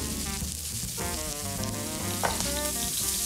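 Onion fries in a very hot wok, a dense, loud crackling sizzle running continuously at close range with a light sharp clink partway through, set against a busy background hum.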